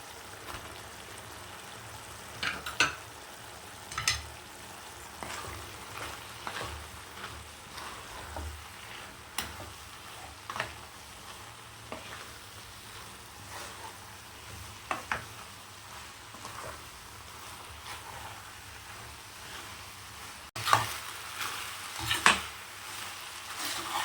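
Dry fish (karuvadu) masala being stirred together with cooked rice in a pan, giving quiet scraping and soft clinking ladle strokes at an irregular pace over a faint, steady background hiss.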